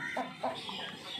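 A fighting rooster clucks a few short times nearby, quiet and close, with soft background hiss.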